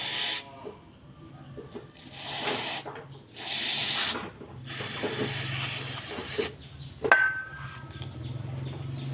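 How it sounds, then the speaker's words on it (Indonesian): Carb cleaner is sprayed from an aerosol can onto the fuel injector of a Yamaha Mio Soul GT 125 scooter: several close, loud hissing bursts of varying length, separated by short pauses and light handling noise. "Kita semprot sampai bersih untuk bagian injektornya."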